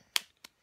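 A small child claps a few times, sharp isolated slaps spaced out and fairly faint, with quiet pauses between them.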